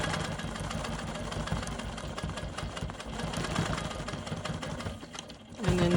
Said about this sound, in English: I'm going to stitch in the ditch right here.